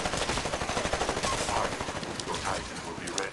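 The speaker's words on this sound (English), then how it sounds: "Alright, somebody was shooting me." Rapid automatic gunfire from a Titanfall match, a pulsing burst of shots that carries on for a few seconds at a loud, steady level amid busy game noise.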